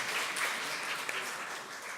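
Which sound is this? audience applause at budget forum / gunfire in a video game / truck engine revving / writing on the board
audience applause at budget forum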